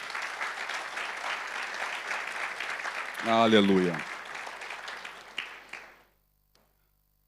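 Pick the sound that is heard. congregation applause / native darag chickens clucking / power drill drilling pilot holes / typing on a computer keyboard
congregation applause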